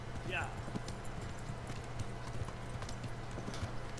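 Steady clip-clop of horse hooves trots at an even pace in the video game Kingdom Come: Deliverance, over a constant low hum and ambient background.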